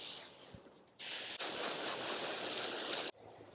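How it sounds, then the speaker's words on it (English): A spray bottle mists potting-mix trenches in a garden, making one steady, close hiss that lasts about two seconds before cutting off sharply. "And spray the trenches one more time."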